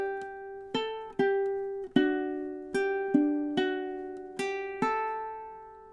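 A ukulele plays measures 19 and 20 of a song, sounding about eight clean plucked chords with ringing sustain, close and clear with nothing else audible.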